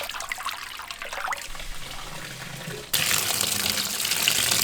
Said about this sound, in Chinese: 把猪肺灌一下水，好好清洗一下